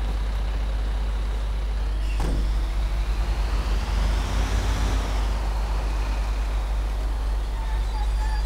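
A large off-road truck in the video game GTA V rumbles steadily along a hill, its engine a constant low drone with a faint rising whine midway and a brief clunk early on.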